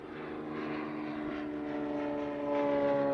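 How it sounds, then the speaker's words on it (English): An airplane passes overhead, its loud droning engine steady and rising slightly as it nears, with no talking. "That plane's just loud. Flew right over real fast."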